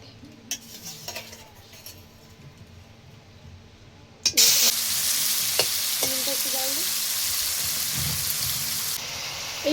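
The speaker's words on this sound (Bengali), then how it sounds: "কড়াতে এবার আমরা চিংড়ি মাছগুলোকে দিয়ে দেবো।" Prawns dropped into hot oil in a karahi, a few faint clinks first, then a sudden loud, steady hiss of frying that continues close up to the end.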